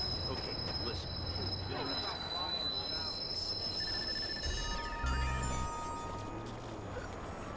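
A subway train in the video game Watch Dogs pulls into a station, its wheels screeching and squealing on the rails over a steady rumble, with a brief chime and voices drifting through the busy platform noise.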